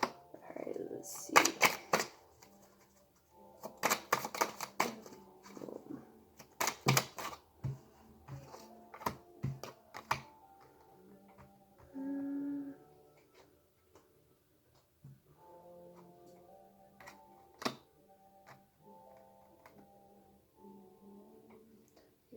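Tarot cards are shuffled and drawn: a quick run of crisp clicks and snaps at the start, then sparser taps. A faint hum and some soft tonal sounds continue quietly underneath.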